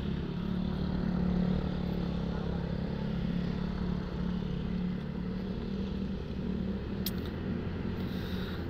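Several motorcycles, including an ADV, Aerox, Mio and PCX, idle and rev together in the early morning, a steady droning engine rumble at moderate distance with no talk.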